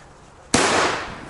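A P-2000 firecracker goes off in a single sharp, loud bang after a moment of quiet, followed by a short noisy decay.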